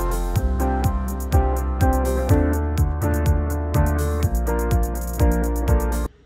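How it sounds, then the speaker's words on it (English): A steady four-on-the-floor kick on every quarter note drives the verse of a country song production, layered with acoustic guitar, hi-hats and other parts. It runs loud and even, then stops abruptly just before the end. "Four on the floor quarter notes for the verse, sounds like this"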